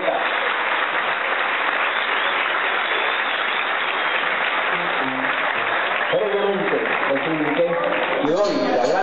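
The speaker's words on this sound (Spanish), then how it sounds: "para los cuales pido un fuerte aplauso que están allá atrás" A crowd at a mayor's inauguration ceremony in Barceloneta gives sustained, even applause, with a voice over a loudspeaker joining near the end.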